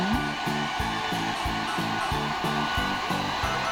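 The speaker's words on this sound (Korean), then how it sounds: "이제 머리를 말려요" A cheap, lightweight hair dryer blows steadily and loudly while drying hair, its constant whoosh pulsing slightly as it is moved about.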